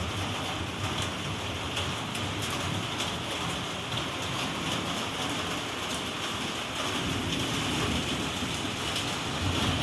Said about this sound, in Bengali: এই দেখো বন্ধুরা বৃষ্টি হচ্ছে